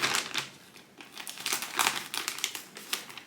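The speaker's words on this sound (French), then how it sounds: "Je vais ouvrir mon terreau" A plastic bag of potting soil is torn open for filling a planter box, giving close, loud crinkling and crumpling in quick irregular bursts, with no talking.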